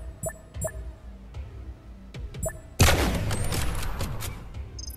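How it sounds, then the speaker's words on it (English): Sniper rifle shots in the Blaston VR game: a few sharp, spaced cracks, followed by a louder blast that trails into a long crackling wash. "This is a sniper rifle"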